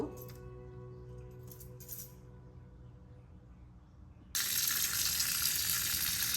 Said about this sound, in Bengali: মাংসগুলো ধুয়ে নিচ্ছি, তারপর বসিয়ে দিব।